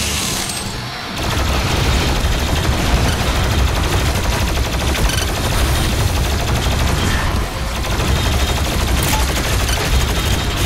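A plasma gun in DOOM Eternal firing a long, dense, rapid volley at high volume, with only a brief gap near the start and a small dip partway through.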